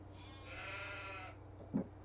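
Sheep bleat once inside a livestock trailer with its doors open, a sustained mid-level call followed by a short thump, over a steady low hum.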